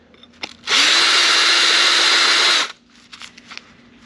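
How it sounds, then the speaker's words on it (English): Power drill spinning a stepper bit to deburr a drilled hole during a trailer fender install on a Kawasaki Versys X, one loud steady whine lasting about two seconds between quieter handling noises. "you can clean those up is by using a stepper bit and just kind of hit it just a little bit."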